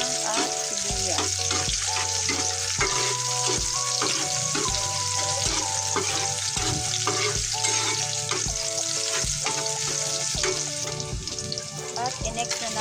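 Garlic and onion sauté in cooking oil in a pan for a sardine and Malabar spinach dish, a dense loud sizzle that runs the whole time, close up, with steady stirring scrapes and no talking.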